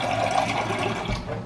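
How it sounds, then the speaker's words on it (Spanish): Water pours steadily into a cooking pot for boiling chicken, a continuous, fairly loud rushing splash that runs unbroken throughout. "Vamos a echarle un poquito más de agua"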